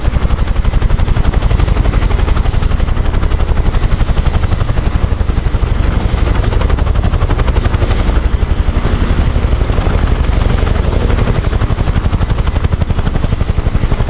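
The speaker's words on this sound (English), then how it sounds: "Helicopter's walking away." A helicopter in Microsoft Flight Simulator 2024 drones loudly and continuously, its rotor thumping in a fast, even chop that barely fades as it moves off.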